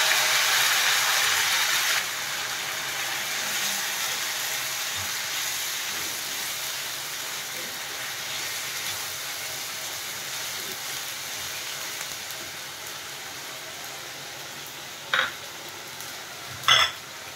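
Ground onion paste sizzles in hot oil in a pan where garlic has just been fried, giving a steady, close hiss with a couple of short clinks near the end and no talking.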